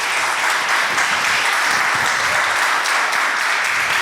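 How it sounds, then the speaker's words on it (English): A conference audience claps loudly and evenly after a talk on AI-driven personalization of user experiences, a full burst of applause with no voices over it. "First, an applause for the presentation."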